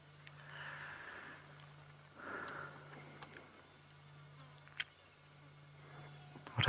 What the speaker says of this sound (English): What I'd like you to try and hear is the flies buzzing.